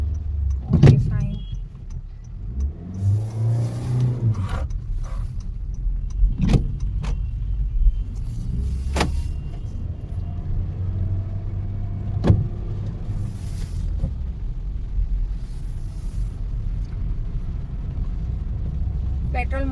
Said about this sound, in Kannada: ಈಗ ಗೇರ್ ಚೇಂಜ್ ಮಾಡ್ಕೊಂಡು ಸಿಟಿ ಒಳಗೆ ಗಾಡಿ ತೊಗೊಂಡು ಹೋಗ್ತಾ ಇದ್ದೀನಿ